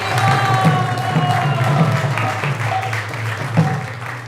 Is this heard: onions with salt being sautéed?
no